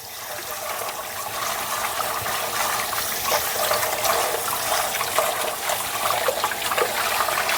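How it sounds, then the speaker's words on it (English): Steady running tap water pours over hands being rinsed of sticky bagel dough, a continuous close splashing rush that stays loud and even throughout, with no talking. "Let me rinse my hands."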